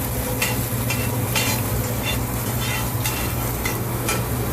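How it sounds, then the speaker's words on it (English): Bacon frying in a pan with steady close sizzling and crackle, broken by repeated scraping and stirring strokes from a utensil against the pan, no voices. "You don't want your bacon to burn, so that's why we're stirring."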